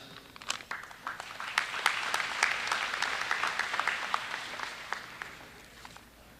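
Audience applause at a college graduation ceremony, a sustained wave of many hands clapping in a hall, swelling and then tapering off, no talk over it.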